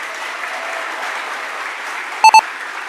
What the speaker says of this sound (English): Could we give that a round of applause?